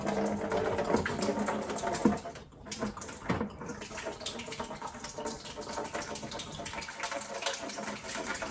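Water poured from a Model T6633 Brown's gas generator into a bucket, a continuous splashing gush at close range that dips briefly partway through, then carries on steadily with no talk.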